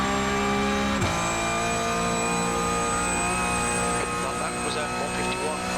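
A Porsche Cup race car at full throttle on the VIR circuit gives a loud, steady engine drone that holds for several seconds, with a voice talking over it.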